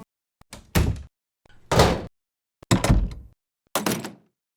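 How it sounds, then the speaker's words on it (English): Four heavy door slams, each a loud bang with a short rattling decay, spaced about a second apart with silence between. "you need a door slamming for your video"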